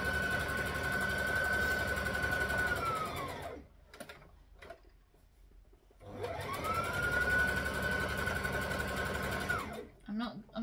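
A sewing machine top-stitches the edge of a homemade unpaper towel in two steady runs of rapid whirring stitches with a pause between them, loud and close, while a voice talks over it.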